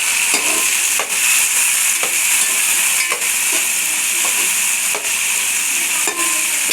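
Bagara chicken curry sizzles loudly and steadily in a pan, a dense frying hiss broken by regular stirring scrapes roughly every second, with no voices.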